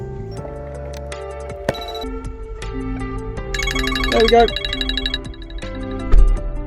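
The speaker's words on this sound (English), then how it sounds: "the system's ringing us just to remind us that we've left it in service mode" A Halo+ immobiliser system fitted to a 2023 L460 Range Rover places a phone call, and a repeating electronic ringtone sounds close and moderately loud. Brief speech is heard with it.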